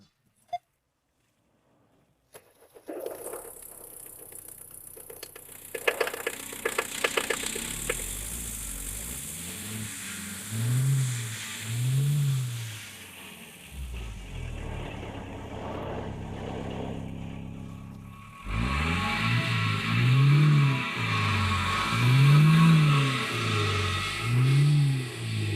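A Mercedes W123 engine cranks and starts, then runs loudly nearby, rising and falling in repeated revs before surging louder.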